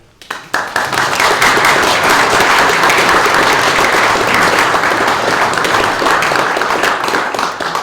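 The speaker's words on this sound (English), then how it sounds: "I think she needs a round of applause" Applause for Valerie at a Lagonda Club AGM meeting: loud, dense, sustained clapping from a roomful of people that starts abruptly and fills the whole stretch.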